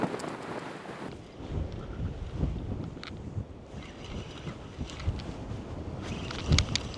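Strong wind buffeting the microphone on a rough-ground shore during a club cod-fishing match, gusty rumbling roar with uneven bursts and faint clicks, no speech.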